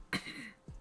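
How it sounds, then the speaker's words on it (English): A person gives a couple of small coughs, one sharp cough near the start and a softer one just after, close to the microphone in a quiet room. "Little coughs."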